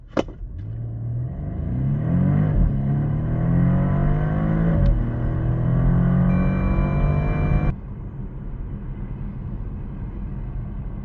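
A new Porsche Panamera engine revs hard and accelerates, its loud, rising roar climbing in pitch through several surges before dropping abruptly to a lower, quieter rumble near the end; no one speaks.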